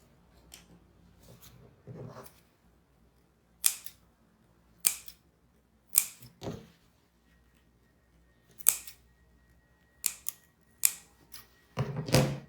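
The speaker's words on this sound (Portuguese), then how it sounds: "a gente pode dar pequenos picotes com a tesoura, com a ponta da tesoura, para desvirar a peça" Scissor tips snipping small cuts into fabric for a wallet being sewn: about a dozen crisp, dry clicks in irregular clusters, close and distinct against quiet with faint rustling between.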